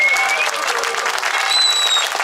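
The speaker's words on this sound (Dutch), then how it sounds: "Ik wil een groot applaus" Applause from a group on a barrel trip in Germany, steady and fairly loud for the whole stretch, with a couple of whistles or squeaky tones over the clapping.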